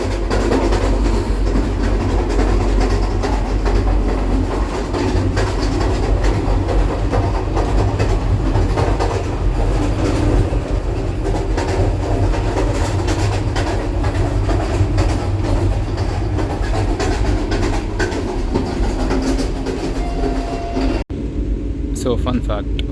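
Steady low rumble and rattle of the Vande Bharat Express running, heard from inside the Indian-style washroom with its vacuum toilets, a continuous droning roll with faint rhythmic clatter that cuts off abruptly near the end.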